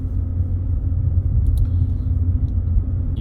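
A tracked sidewalk snow removal machine with chains, like a mini tank, rumbles steadily and loudly nearby in a Montréal street, with a few brief squeaks or clinks over the continuous engine drone.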